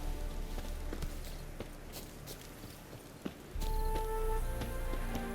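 Horse hooves clip-clopping in The Witcher 3, a soft irregular patter of steps at moderate distance, then giving way to a louder steady ambient rumble in the last couple of seconds.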